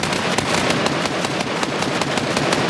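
Rapid bursts of automatic gunfire from a multiplayer shooter video game fill the clip, loud and continuous with a fast, steady rattling rhythm and no talk over it.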